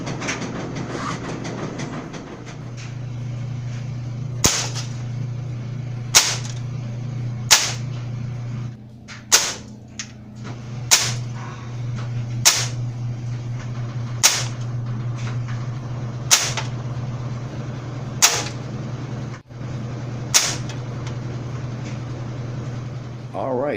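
An Umarex Synergist airgun fires Sig wadcutter pellets, about ten sharp, evenly spaced cracks over a steady low hum.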